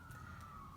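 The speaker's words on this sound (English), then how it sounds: "Sorry for the sirens in the background. I live close to a hospital," An emergency vehicle siren near a hospital wails as a steady faint tone far in the background, a low rumble of traffic or room noise underneath, with no voices.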